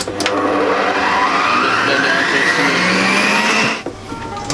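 A food processor blends a spiced, eggy mixture with a pinch of cinnamon while cooking a lasagne meal; a loud, steady whirring drone runs continuously for nearly four seconds, then cuts off abruptly.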